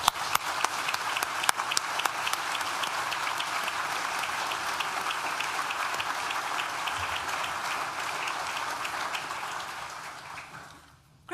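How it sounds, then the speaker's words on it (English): Sustained applause from a graduation ceremony audience, dense steady clapping filling the hall for about ten seconds before fading out at the end. "Please join me in thanking them with a well-deserved round of applause."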